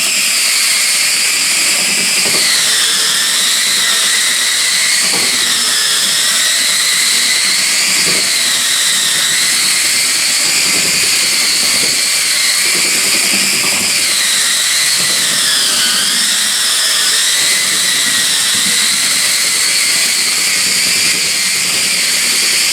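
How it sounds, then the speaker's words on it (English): A Handife sander grinding at speed setting 2 gives a loud, continuous, close whine that wavers slightly in pitch as it works, with faint scraping underneath and no voices. "so this can really do some grinding."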